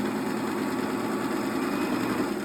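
A Singer sewing machine works steadily while stitching a buttonhole, giving a continuous, even motor whir and rapid needle chatter, fairly quiet and close with no talking.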